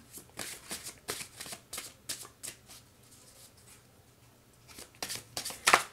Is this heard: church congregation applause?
no